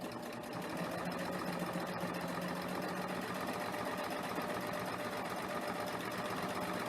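A serger runs a three-thread wide overlock, its knife trimming the fabric edge as it goes, a steady, even mechanical whir that continues unbroken and fairly quietly throughout.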